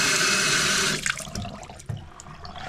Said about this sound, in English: As you can see, it's draining really fast and good.